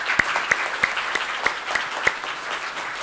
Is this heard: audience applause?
yes